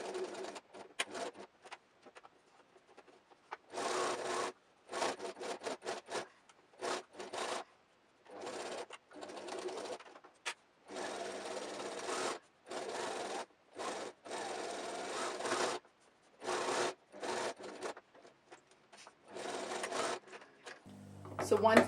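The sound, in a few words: sewing machine stitching a wallet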